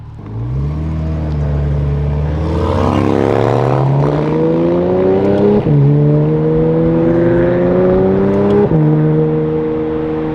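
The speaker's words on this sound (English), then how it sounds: "The tone of this exhaust is amazing too." A sports car with a GT3-like exhaust revs up and shifts around 4,000 RPM, the tone rising in pitch, then dropping sharply at each gear change, loud and close, continuous with no talking.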